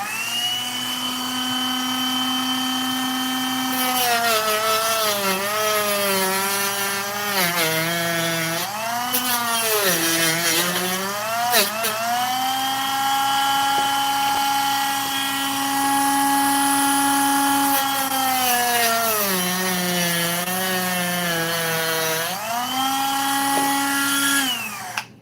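A plastic part being trimmed with a high-pitched power tool makes a loud, sustained whine whose pitch dips and rises repeatedly as it bites into the material, with no talk over it.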